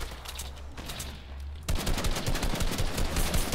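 Rapid gunfire in a battle royale shooter, a quieter spell of shots giving way to a loud, dense burst of fast repeated firing close by.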